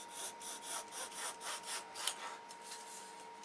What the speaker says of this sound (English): With a sanding block.